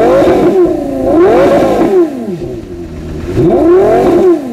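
A Porsche Carrera GT supercar engine revs hard in repeated surges while accelerating, pitch climbing and falling with each throttle blip, loud and close with no voices.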